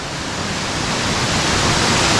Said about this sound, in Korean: 와, 이 폭포 한번 보시죠 자연산 폭포인데